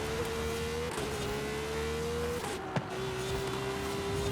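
A V12 race car in Forza Horizon holds a steady high engine drone, rising through gears with brief drops at shifts and a sharp click midway, with other cars audible around it.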